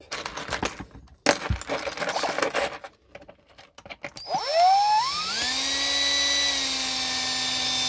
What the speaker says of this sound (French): je vais continuer à percer maintenant